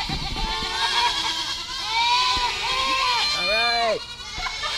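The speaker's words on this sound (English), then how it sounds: "Some needy goats over there." Several goats bleat in wavering, nasal cries, one after another at moderate distance, with a loud final bleat near the end.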